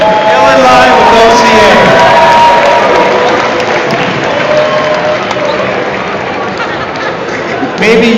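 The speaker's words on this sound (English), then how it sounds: "let's give us another applause for our contestants" An audience at an Asian Pacific Islander Heritage Month celebration applauds and cheers contestants after a winner is announced, a loud sustained wash of clapping, whoops and crowd noise across the whole stretch, with voices mixed in.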